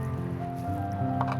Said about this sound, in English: So you squeeze the media, squeeze the water in here